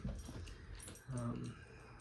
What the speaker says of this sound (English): Now my dog wants to get up.